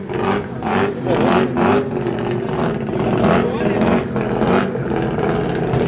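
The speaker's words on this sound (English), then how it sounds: "Sounds like a rotary, eh? Doesn't sound like a normal engine. The way it idles." A rotary engine idles with a lumpy, pulsing rhythm at a drag racing day at Killarney, its throb rising and falling every half second, while someone talks over it.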